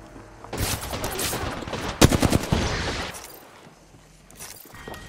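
Rapid gunfire in the video game Apex Legends during a ranked firefight in rocky cover, a dense volley of close, sharp shots peaking in a hard staccato burst midway, then fading to quieter scattered sounds.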